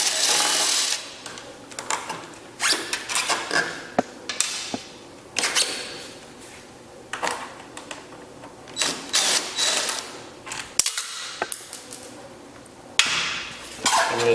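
Loosening the three T25 Torx screws on the tail section of a BMW S1000RR motorcycle, heard as close bursts of driver whirring and ratcheting with clicks and metallic clinks between them, alone.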